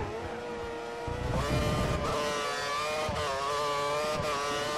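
Formula 1 car engine in a 2014-season mod of a racing video game, qualifying at the Brazilian Grand Prix: a continuous high-pitched whine that climbs and dips through gear changes, loud and steady, with no talking.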